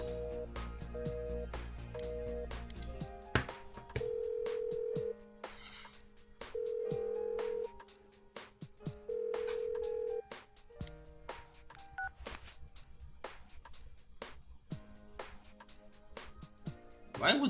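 A telephone rings in Persona 4 Golden, with repeated electronic ring bursts and beeping tones in a steady pattern, mixed with game music and other interface sounds. A voice talks over parts of it.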